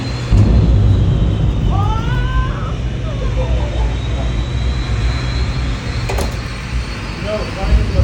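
A Ferrari fitted with an aftermarket jet engine kit built from helicopter turbine motors runs with a loud, continuous whooshing roar close by, while people talk over the noise.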